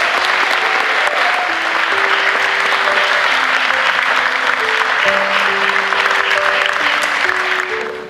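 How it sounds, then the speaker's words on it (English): Sustained applause from a crowd at a school athletic hall of fame ceremony, steady clapping filling the space throughout while a few tones sound faintly underneath. "please join me in a round of applause"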